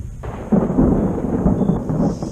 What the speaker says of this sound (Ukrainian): а на вулиці чергова гроза.